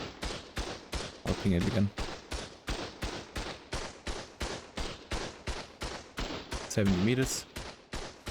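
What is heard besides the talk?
turret shooting at player in video game ARK: Survival Ascended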